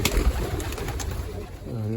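Pigeons coo in a loft where a mother bird sits on eggs, with low throaty calls and rustling close by. A voice is heard faintly.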